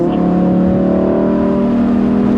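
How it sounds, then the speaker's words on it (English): Lamborghini with its factory exhaust, a loud, close, sustained engine drone that holds steady and rises slightly in pitch. "And that's factory exhaust"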